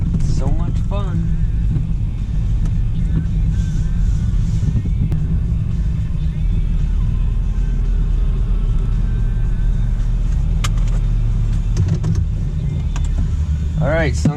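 A 2017 Super Duty pickup sits in an automatic truck wash. Steady low rumbling and spraying fill the space, loud and close, while people talk over the machinery.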